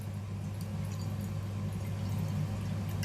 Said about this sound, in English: I am just going to pour regular water into this bowl